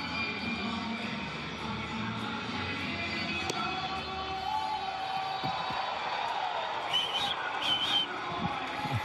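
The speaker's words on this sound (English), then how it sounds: "A little whistle." Short whistles, some rising and some falling in pitch, sound over a continuous background of crowd noise at an Orioles baseball game. Some are brief chirps and others are held for a moment.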